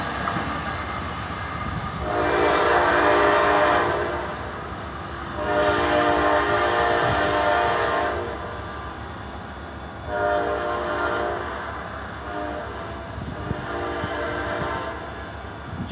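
A southbound train passing near the tracks, sounding its horn in three long blasts over the heavy rumble and rattle of rolling wagons, loud and close.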